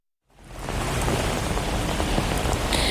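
Steady rain falls across Northern California, a dense, even hiss of drops on surfaces that swells in after a brief silence and holds at a constant level with no voices.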